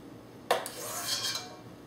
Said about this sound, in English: So now we are going to stir in about a 1/4 cup of sour cream